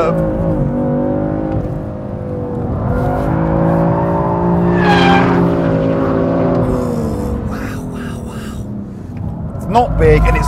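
BMW F80 M3 drifting on a race circuit, its engine holding a loud sustained drone that rises and falls in pitch as the car slides, close and steady throughout.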